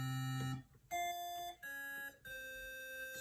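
Hydrasynth synthesizer patch built on the Newton waveform, a square-to-saw-like wave, playing a few sustained bright tones that shift pitch in separate steps, quiet and alone.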